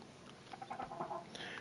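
Chickens clucking in Minecraft, a faint scatter of short, soft clucks and chirpy calls over a low steady background, with no voices.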